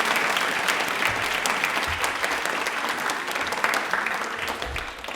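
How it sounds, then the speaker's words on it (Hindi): A loud, continuous round of applause fills the hall at an Indian Railway quiz programme, as an audience claps heartily for railway staff. The clapping is dense and evenly sustained from start to finish. "तालियां एक बार इनके लिए जोरदार बजा दीजिए"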